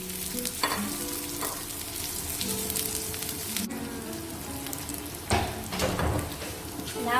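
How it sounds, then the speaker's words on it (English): Onions frying over medium heat in a pan with crackling seeds, a continuous loud sizzle with occasional scraping stirs and a few louder spatters. "Now these onions are fried"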